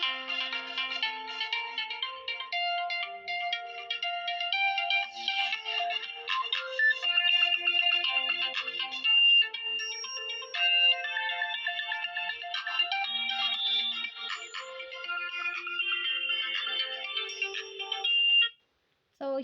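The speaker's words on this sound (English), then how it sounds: "here is the sound." Ringtone on a Vivo T1x smartphone: a bright, melodic electronic tune with layered chiming notes playing continuously, moderately loud and clear, then cutting off abruptly near the end.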